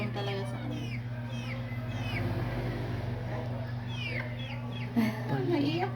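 A pet chicken clucks several times in short chirpy calls, close by, over a steady background hum with a voice speaking intermittently.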